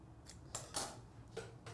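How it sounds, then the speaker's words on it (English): Scissors snip through dovetail ribbon for a Cricut Christmas craft, giving about four crisp, separate cuts spaced unevenly over a couple of seconds, close and fairly quiet against low room hum. "These scissors are awful."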